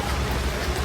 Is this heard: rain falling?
yes